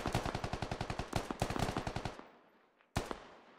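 Automatic gunfire in a military shooter video game, a fast rhythmic burst of loud rapid shots lasting about two seconds, fading out, then one more sharp shot after a short pause.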